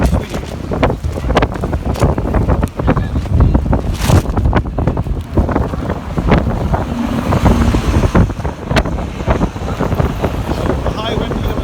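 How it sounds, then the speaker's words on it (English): Strong outdoor wind buffets the microphone continuously, a loud rumbling roar with gusty bursts close up, while a person talks throughout. "The high wind near us now"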